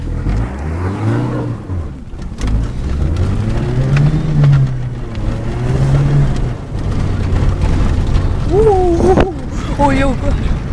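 A rally car accelerates across a field in an Estonian field rally. The engine note rises and falls in revving surges while people talk over it throughout.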